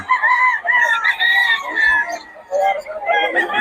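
Roosters from Boss Tony's flock crow close by in a series of strained, wavering calls broken by short clucks, one bird after another with brief pauses between.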